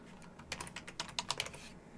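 Quick keystrokes on a computer keyboard type out a short file name, about a dozen close, crisp clicks in a fast burst that stops just before the end.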